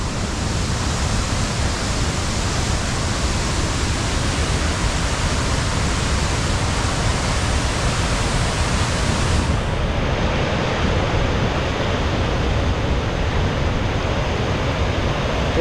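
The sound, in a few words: heavy rain at Mawkdok Dympep valley viewpoint, Cherrapunji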